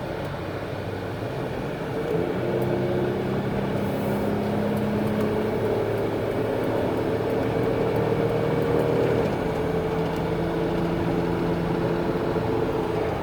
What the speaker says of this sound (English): So you can hear the engine run strong, hear the transmission shift